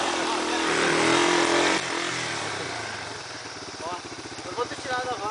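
A dirt motorcycle engine revs loudly up close on a trail ride, then drops to a choppy, sputtering idle with uneven bursts toward the end.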